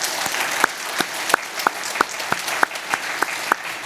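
Congregation at an Easter dawn church service clapping in unison for the choir, a steady rhythmic beat of about three claps per second, close and loud.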